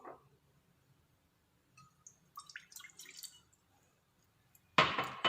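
Water poured while making homemade cough candy, a brief close splashing pour near the end after quieter dripping and small handling sounds, no talk.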